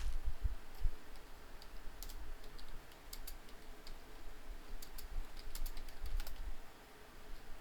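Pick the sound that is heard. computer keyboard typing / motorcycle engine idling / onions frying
computer keyboard typing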